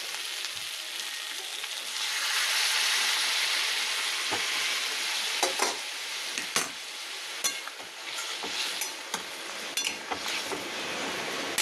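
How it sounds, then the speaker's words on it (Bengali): Hot water poured into a sizzling potato, yam and tomato curry in a pan, a broad hiss swelling then settling into bubbling with scattered sharp utensil clinks against the vessel, heard close with no talking. "এবার এই যে বাটিতে গরম জল করা আছে,"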